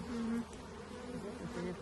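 Honeybees buzz loudly and close by in an open hive, a dense continuous drone with wavering pitch.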